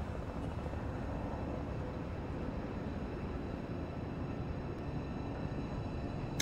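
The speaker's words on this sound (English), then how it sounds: "It's a reverse helicopter shot. As we see a helicopter go." A helicopter flies over the ruined city of Midgar in Final Fantasy 7 Rebirth, heard as a continuous low, rumbling engine drone. It holds steady and fairly loud for several seconds with no speech.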